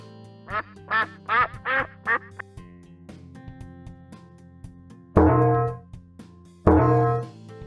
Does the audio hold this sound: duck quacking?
yes